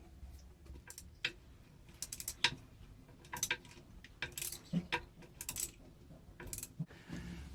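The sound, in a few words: flex-head wrench removing screws from boat fuel filter assembly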